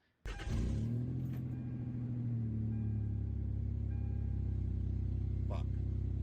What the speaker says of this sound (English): It's revving high.